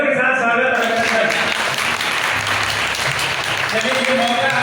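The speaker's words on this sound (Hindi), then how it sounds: "युवराज सिंह तालियों के साथ स्वागत अभिनंदन।" An audience at a tribal community gathering breaks into continuous, dense applause that stays loud throughout, with a voice speaking over the clapping.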